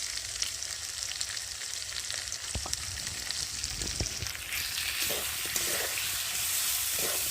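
Potatoes frying in a pan with tomato, cumin paste, ginger paste, turmeric, salt and chili powder, a steady close sizzle with occasional stirring knocks, growing slightly louder toward the end.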